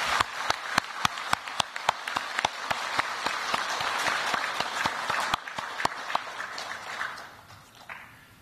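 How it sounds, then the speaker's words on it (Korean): Audience applause for visiting UN war veterans at a luncheon held at the Blue House guest house, opening with sharp, spaced claps that swell into a dense, sustained ovation and then gradually thin out and fade. "여러분, 이분들께 특별히 감사의 큰 박수를 보내주시기 바랍니다."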